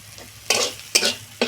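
Spice paste is stir-fried in a pan while cooking cabbage ghonto. Three short bursts of scraping and sizzling come close and clear, with quiet pauses between them.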